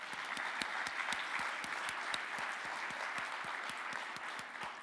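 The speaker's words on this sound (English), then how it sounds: "Give yourself an applause." Audience applause at an entrepreneurship talk, a steady dense clapping that holds at an even level for about five seconds without voices over it.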